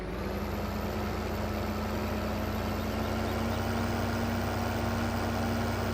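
A heavy Case Quadtrac tractor engine in Farming Simulator idles steadily, a constant deep rumble with a faint whine, close and unbroken throughout.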